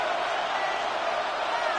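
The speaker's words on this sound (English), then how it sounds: "The crowd at Arrowhead roaring." A crowd at Arrowhead stadium in an EA Sports football video game roars in a dense, steady wash of cheering that holds at constant loudness for a brief moment.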